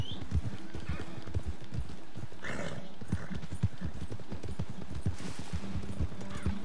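Horse hooves clip-clop steadily in Red Dead Redemption 2, with a quick rhythmic beat that stays close and fairly loud. Faint game ambience runs underneath, and a brief whinny is heard.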